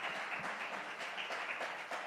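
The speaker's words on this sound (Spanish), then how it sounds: "un aplauso al Señor" A church congregation applauding, dense continuous clapping filling the room at a steady level for a couple of seconds, no voices over it.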